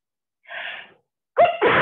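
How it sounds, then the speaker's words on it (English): One person sneezes close up during a quiet yoga session: a brief breathy intake, a pause, then a sharp loud burst. "I feel a sneeze coming on."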